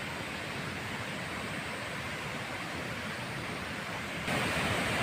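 Water pours over a weir at a headwork reservoir beside a temple in Savannakhet, Laos. The rushing is a steady, close, loud broadband roar with no break, growing slightly louder at the very end.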